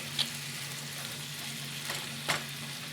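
Ground beef for sloppy joes sizzles steadily in a pan, with a few brief scraping strokes as it is broken up, close and moderately quiet.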